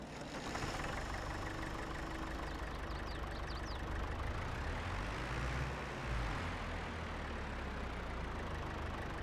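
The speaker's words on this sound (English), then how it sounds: "Our other tractor." A farm tractor idles with a quiet, steady mechanical rumble and faint knocking, heard from a short distance with no talking.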